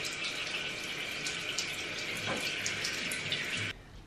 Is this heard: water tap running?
yes